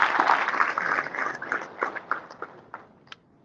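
Audience at a youth summit in the Gambia breaks into applause, a dense wash of clapping that thins into scattered individual claps and dies away within a few seconds.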